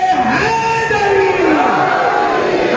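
A large crowd roars back in unison during a religious gathering, answering the Naara-e-Haidari chant with loud, sustained massed shouting that fills the whole stretch.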